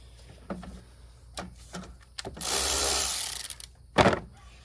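Socket ratchet tightening bolts while reinstalling a new A/C compressor on a Honda Crosstour, giving a few short separate clicks and then a longer dense burst of rapid ratcheting, fairly close and alone.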